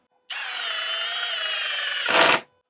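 A cordless power drill drives a screw steadily into material, a continuous high whine for about two seconds that ends in a brief louder burst as the screw seats, then stops; no talking.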